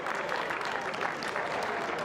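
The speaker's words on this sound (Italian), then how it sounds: "Maria Zebere va a concludere la sua gara e anche per lei c'è l'applauso." Spectators applaud an athlete finishing a race at a regional track championship, a steady, even wash of clapping from a crowd that holds at a constant level through the short stretch.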